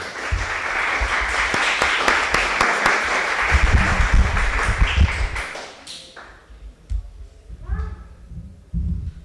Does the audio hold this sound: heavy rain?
no